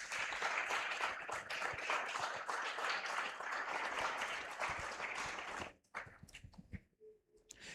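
A church congregation bursts into sustained, dense applause honoring the Lord, steady for several seconds before abruptly thinning into scattered claps and quiet.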